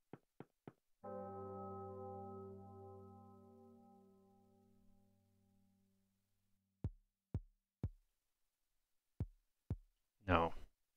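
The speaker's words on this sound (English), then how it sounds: "Bells" Bells ring in the horror video game Pocket Mirror: a sustained, resonant toll slowly fades away, with a few sharp clicks before it and soft taps after.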